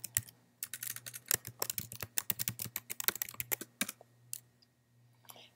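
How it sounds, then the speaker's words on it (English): Typing on a computer keyboard while entering email login details: quick, light keystroke clicks in uneven bursts over a faint steady hum, thinning out toward the end, with no voices. "Type in your district email information."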